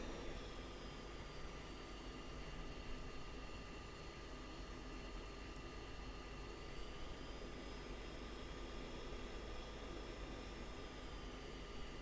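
A fighter jet taxis in the Falcon BMS 4.35 flight simulator, its engine giving a loud, constant whining drone with steady tonal hum and no pauses.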